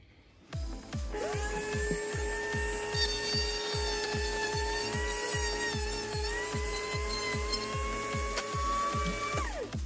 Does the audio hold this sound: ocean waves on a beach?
no